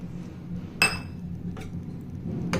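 A spoon clinks against a glass while coconut buttermilk and amla drink is stirred, giving three sharp metallic taps spaced roughly a second apart over a quiet background.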